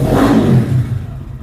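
Lifan KPM 200 motorcycle engine idling at fairly high revs, a close, loud mechanical putter with a slight clattering edge that eases off toward the end.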